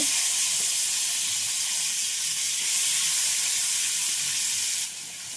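Chopped onions hiss and sizzle steadily in hot oil with whole cumin seeds, for homemade vegetable khichuri; a loud, continuous frying sound with no talk, dropping slightly at the very end.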